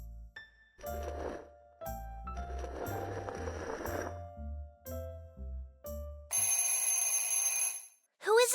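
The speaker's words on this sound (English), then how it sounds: "It's a chess clock. It's ringing to tell us that today's lesson is over." A chess clock in an animated cartoon rings with a loud, bright, sustained electric bell lasting about two seconds. Cartoon voices and jingly sounds come before it.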